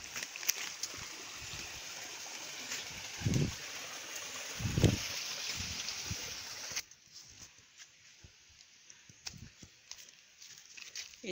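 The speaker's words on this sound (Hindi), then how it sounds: "झरने मिल गया।" A small jungle waterfall and flowing stream give a steady rushing wash of water that cuts off partway, with a couple of muffled thuds earlier and faint quieter outdoor ambience afterward.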